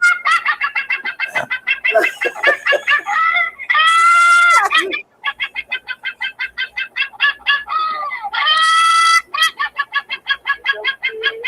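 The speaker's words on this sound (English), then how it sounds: "With the roosters, when they first start learning to crow, they make some weird sound." A young rooster just learning to crow lets out rapid stuttering clucks and strained, squawky crow attempts, loud and close, repeating in bursts between rhythmic clucking runs.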